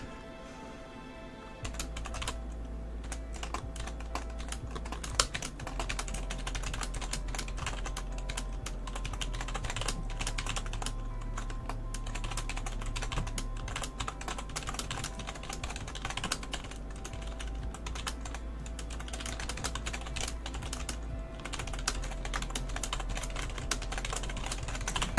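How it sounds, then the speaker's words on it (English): Steady typing on a computer keyboard clatters on for a long stretch, dense irregular keystrokes over a low constant hum, close and fairly loud, with no talking. "I feel like I'm typing more than I'm talking."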